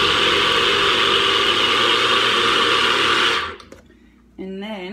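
Homemade superfood baby food whirred in a small countertop blender, a loud continuous motor drone for several seconds that cuts off abruptly, then a brief voice.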